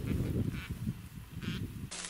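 Three wild ducks fly in over winter ice at a hunting spot near sunset, giving several loud, close quacking and honking calls in quick bursts.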